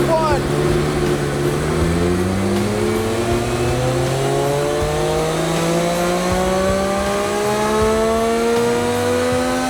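Triumph Street Triple motorcycle engine revving up on a dyno, one loud sustained run climbing steadily in pitch with a rough, buzzing exhaust note, heard up close with faint voices in the background.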